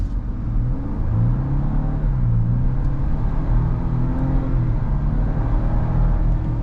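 A 2025 Ford Ranger Lariat 4x4 pickup in two-wheel drive and normal mode pulls away from a start, its engine rumbling and rising in pitch as it accelerates, heard steadily from inside the cab with no talking.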